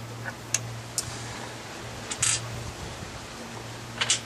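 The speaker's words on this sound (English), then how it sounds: "Once that's in position, we can start to put in the bolts." Bolts go into a ZF 5HP19 transmission valve body as a series of sharp, close metallic clicks and taps, spaced irregularly over a low steady hum.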